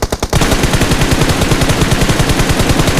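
Rapid automatic gunfire from a BGMI battle royale match, a loud, sustained burst of evenly spaced shots running almost the whole time after a brief opening moment.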